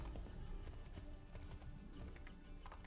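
Horse hooves clip-clop in a fast, rapid rhythm while galloping in the video game Assassin's Creed III, faint and steady throughout with no speech.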